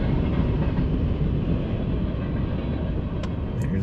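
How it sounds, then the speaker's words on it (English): A train moves past at a steady roll, its broad rumble loud and close throughout with no gaps, heard alone and without speech. "But yeah, this train is moving on."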